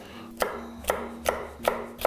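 A knife chops carrots on a cutting board in five evenly spaced, sharp knocks, close by, with a faint steady hum underneath.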